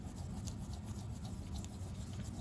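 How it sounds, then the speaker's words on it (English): Pencil lines being erased from drawing paper for a penguin-on-ice sketch, a steady close rubbing scrape that runs continuously without pause, fairly quiet. "we're gonna go ahead and erase all of our pencil lines"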